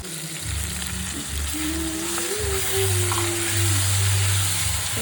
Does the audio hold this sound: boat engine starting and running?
no